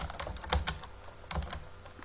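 Rapid typing of a search query on a computer keyboard, a quick run of light clicking keystrokes with a few louder taps, close and steady with no talk.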